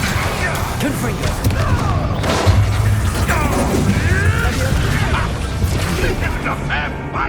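A Confringo fire spell explodes in Hogwarts Legacy, a booming, crashing burst that rides on steady mechanical battle clatter, with voices heard amid the fight.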